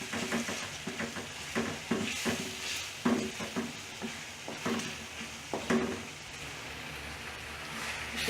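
Dried red chillies fry in a pan for egg kurma, giving a steady crackling sizzle broken by repeated sharp scrapes and knocks of a stirring spoon across the pan, with no one talking.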